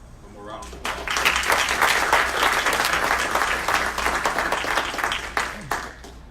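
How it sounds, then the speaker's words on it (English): Audience applause at a city council meeting, a full, steady round of clapping that starts abruptly and holds strong for several seconds before tapering with a few last claps. "One more round of applause."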